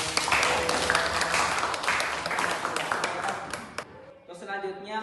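Classroom applause during a micro-teaching lesson, a steady wash of many hands clapping for about four seconds before it cuts off, followed by a voice speaking.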